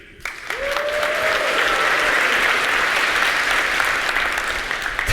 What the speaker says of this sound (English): let's cheer for Kubernetes on 3